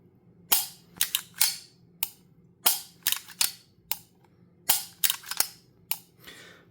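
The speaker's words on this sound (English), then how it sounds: "Here's what the new trigger action looks like." A Staccato HD pistol with a freshly done trigger job being dry-fired: a dozen or so sharp, crisp clicks in an uneven rhythm, close and isolated against a quiet background.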